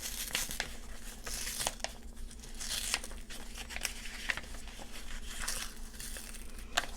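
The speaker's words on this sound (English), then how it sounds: "I'm just going to peel off the handle on the inside." A paper handle is peeled slowly off the inside of a fall scrap-paper craft. Quiet, close crinkling and soft tearing rustles come in irregular bursts.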